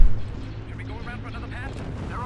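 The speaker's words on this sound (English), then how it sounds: "Cannon firing." An ion cannon fires in the Star Wars Rebels strategy game Awakening of the Rebellion, opening with one loud, heavy booming blast that fades into a rumbling tail while voices talk over it.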